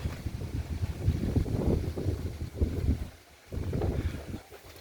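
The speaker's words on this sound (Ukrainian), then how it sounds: "Вітер дебелий." Strong gusty wind buffets the microphone in uneven bursts, roaring loud then briefly easing before surging again.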